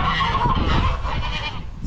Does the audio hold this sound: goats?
yes